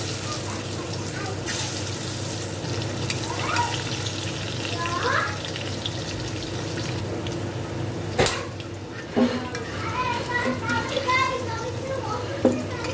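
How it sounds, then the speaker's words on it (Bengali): Potatoes fry in hot oil with a continuous sizzle beneath kitchen sounds, water running and a few clatters, with voices in the background. "এবার আলুগুলো ভেজে নেব। তেলটা দেখো আমার গরম হয়ে গেছে"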